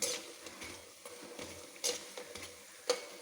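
Cauliflower fries crisping in hot oil for an evening snack, a steady low sizzle broken by a few sharp stirring clinks and scrapes near the pan, no voices.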